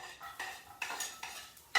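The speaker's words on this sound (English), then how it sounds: "You can hear it sizzling, activating." Sliced garlic fries in olive oil in a hot pan. A soft, steady sizzle runs under repeated scraping strokes from a utensil stirring in the pan, fairly close.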